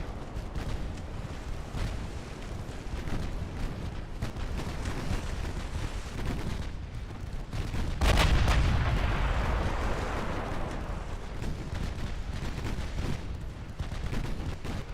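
Naval artillery booms during a battle in the warship game Ultimate Admiral Dreadnoughts, a dense rumble of firing with a single heavy blast around the middle that fades slowly into the continuing barrage.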